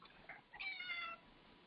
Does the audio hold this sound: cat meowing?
yes